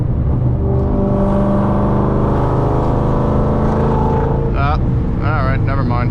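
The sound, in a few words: 700HP Ford Mustang GT500 on stock tires accelerating, possible wheelspin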